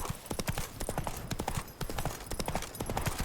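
Roach, the horse in The Witcher 3, trots along with quick, even clip-clop hoofbeats, close and steady throughout the short stretch.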